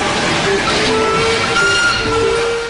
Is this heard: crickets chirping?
no